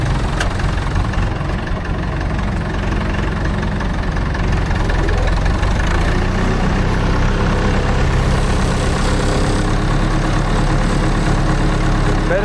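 A tractor engine idles during brushcutting on rough terrain, a loud, steady low rumble with a knocking pulse that continues unbroken for over twelve seconds with no talk.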